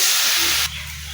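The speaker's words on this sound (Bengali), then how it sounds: "একটু জল দিয়ে ভাজা করে করে নিব" Water splashed onto frying taro leaves bursts into a loud steam hiss for about half a second, then drops to a softer, steady simmering sizzle.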